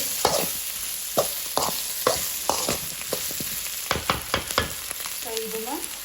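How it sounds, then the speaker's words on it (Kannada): Tomato and brinjal mixture frying in oil in a pan, a steady sizzle broken by repeated sharp scrapes and knocks of a spoon stirring, close and fairly loud. "ಇದು ನೀಟಾಗಿ ಎಣ್ಣೆಯಲ್ಲಿ ಫ್ರೈ ಆಗಬೇಕು."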